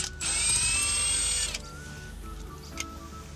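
A power driver with a T30 Torx bit whirs for about a second while backing out a screw on a 100/105 Series LandCruiser steering wheel, then quiet handling noises follow and a short second burst comes near the end.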